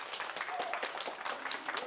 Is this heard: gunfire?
no